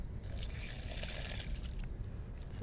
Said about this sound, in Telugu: వాటర్ పోస్తూ ఉంటారనమాట.